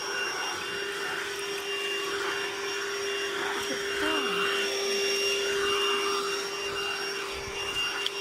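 Lidl cordless Hoover vacuum cleaner running over a carpet edge, a steady close whine with a constant tone and slight fluctuations as it moves, faint voices in the background.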